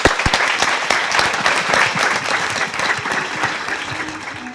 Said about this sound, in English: a quick round of applause for the rest of the panel